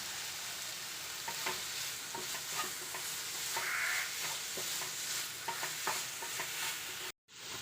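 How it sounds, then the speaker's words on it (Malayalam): Grated coconut is stirred in a hot pan for a banana tea-time snack: a steady sizzle with regular close scraping taps of the spatula, no voices, cutting out briefly near the end. "തേങ്ങ ഇട്ടതിന് ശേഷം ഒരു മിനിറ്റ് ഇളക്കി യോജിപ്പിക്കുക"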